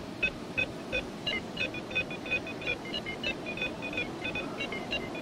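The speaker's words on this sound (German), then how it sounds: "Also dieses Gepiepe, wenn die Türen auf sind" Door-open warning on an ICE 377 train in a train simulator game between Freiburg and Basel Bad Bf: a rapid, regular series of short electronic beeps repeats steadily over a low cabin rumble, with no talking.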